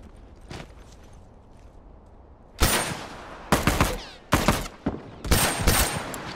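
Rifle gunfire in a first-person video game: a series of sharp, loud shots in irregular bursts after a quiet opening, with faint background movement between them.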